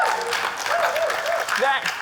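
Audience clapping and cheering at a stand-up comedy show in Singapore, a dense steady burst of applause throughout with voices mixed in.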